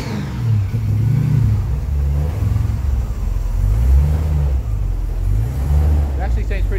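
A supercharged 392 HEMI V8 in a 1955 DeSoto with twin Holley carburetors idles close by, a loud lumpy rumble with rhythmic low pulsing, while someone talks over it.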